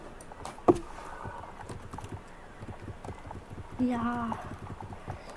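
Horse hooves clip-clop in the online horse-riding game Star Stable Online, a steady soft rhythm under a man's French speech, with one sharp louder knock near the start.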